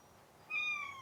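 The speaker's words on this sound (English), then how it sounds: "she's meowing over there." A single short, faint cat meow, thin and high, from a little distance against a quiet background.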